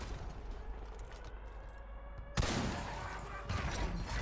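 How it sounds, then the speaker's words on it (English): An RPG rocket fired in Modern Warfare 2 Remastered, a sudden loud blast partway through followed by rumbling explosion noise and a second impact, over quieter background battle sounds. "Yeah, you can just fire a rocket in there."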